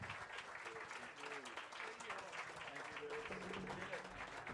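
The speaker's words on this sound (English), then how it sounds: "Yes, keep clapping." Crowd applauding at a live orchestral concert, a sustained wash of clapping throughout while a voice talks over it.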